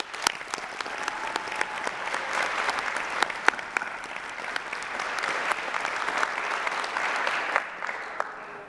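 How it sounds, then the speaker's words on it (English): Sustained applause from a graduation audience at the University of Northampton ceremony, a steady dense clatter of many hands with a few sharper individual claps standing out, holding at an even level throughout. "please let's give them all a resounding, joy-filled round of applause"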